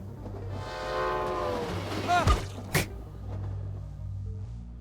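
A video game train approaching: a long descending horn-like tone builds over a low rumbling rail drone, then sharp clanks and a bright burst, fairly loud with a person talking over it.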